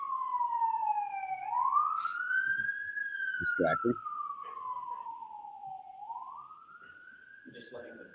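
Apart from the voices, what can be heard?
police siren passing outside courtroom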